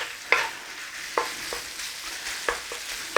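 Pork fries in a pan with cabbage, a soft steady sizzle punctuated by a few sharp taps and scrapes of a utensil breaking up the meat.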